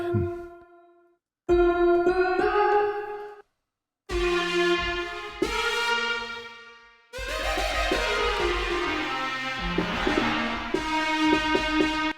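Synth notes from a music plugin's reverb effect ring out one after another, each trailing into a long reverberant wash, building to a dense, loud, echoing chord texture near the end.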